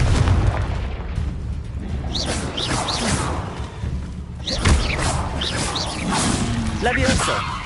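A Confringo fire-blast spell in Hogwarts Legacy going off amid combat, with booming thuds and whooshes over game music and a voice calling out several times.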